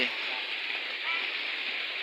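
Steady rain falls at a temple pond before dawn, an even, dense hiss of drops on water and surfaces that holds without pause.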